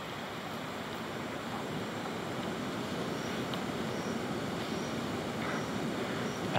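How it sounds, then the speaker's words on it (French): A waterfall roars as a steady, dense wash of rushing water, broad and constant with no talk over it. "C'est le bruit de la cascade."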